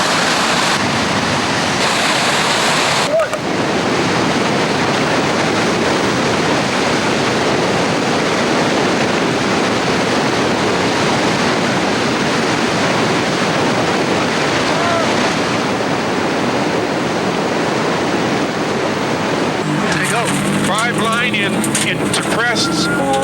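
River rapids rush loudly and steadily as broad, continuous churning water close by, with wind buffeting the microphone throughout and a change in texture near the end.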